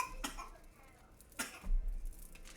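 A girl gives two short, sharp coughs about a second apart, fairly close, followed by a low rumble of background noise.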